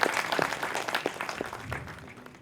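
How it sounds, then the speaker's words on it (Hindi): Audience clapping at a book launch event, a short burst of applause from a modest crowd, loudest at first and fading away within a couple of seconds. "एक बार जोरदार ताली उन लोगों के लिए भी बजा दें।"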